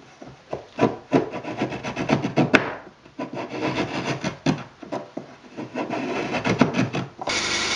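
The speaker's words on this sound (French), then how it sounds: "Les traces de découpe sont ensuite retirées à la vastringue, semelle plate ou semelle convexe selon les endroits." A spokeshave with a flat or convex sole shaves saw marks off wooden workbench parts, producing quick, repeated rasping strokes of varying length, close and clear, with no talking.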